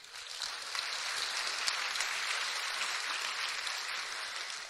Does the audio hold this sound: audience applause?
yes